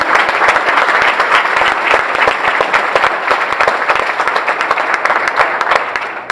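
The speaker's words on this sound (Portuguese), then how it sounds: "Pode dar um forte aplauso a Deus por isso, em nome de Jesus." A church congregation applauds at a Portuguese-language service, a steady, loud burst of many hands clapping with dense, irregular claps filling the whole stretch and no talk over it.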